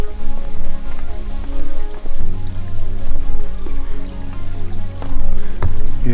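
Spring water trickles and splashes steadily into a lake along a nature trail at Gilius lake, a close, continuous watery patter with no voices.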